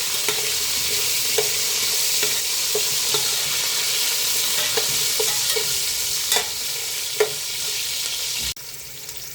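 Shallots, whole garlic cloves and onion fry in a pan with a steady close sizzle, while a spoon scrapes and stirs in sharp intermittent clicks. A final louder knock ends it.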